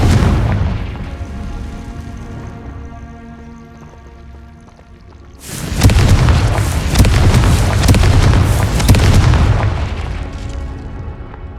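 A Confringo fire spell goes off in Hogwarts Legacy, a sudden loud booming explosion that erupts over a low game soundscape and rumbles on for several seconds.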